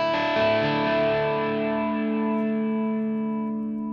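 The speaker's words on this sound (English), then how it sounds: "You can hear the delay much more." Distorted electric guitar chord through a Line 6 Helix with a Revv amp, delay placed in the effects loop, ringing out and decaying slowly with repeating echoes over about four seconds.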